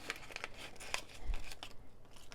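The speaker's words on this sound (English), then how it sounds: "cut this open, because again, I don't have a lot of luck opening these plastic bags nicely" Scissors snip through a crinkly plastic packaging bag of diamond painting supplies, producing quiet, close crackles and rustles with a few sharp cutting clicks.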